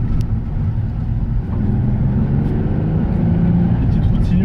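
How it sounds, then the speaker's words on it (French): Steady, droning rumble of a Nissan 350Z's V6 while driving on winding country roads, continuous and close from inside the car, with a voice now and then. "Et ben le son, ça chante. Le V6 de la 350Z, c'est un truc de malade les gars."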